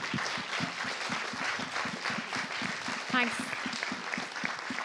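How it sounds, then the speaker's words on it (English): A room of attendees at an energy-sector networking event claps for a panel, a fairly quiet but steady patter of many hands with a voice briefly audible beneath it. "give a round of applause to our panel"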